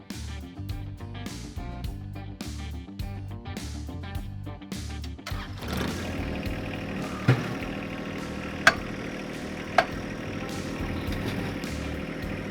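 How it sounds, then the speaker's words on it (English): A John Deere 1025R compact tractor with a loader cranks over in quick rhythmic pulses, then catches and settles into a steady, close diesel idle marked by a few sharp clanks. "I'm gonna go ahead and fire the tractor up"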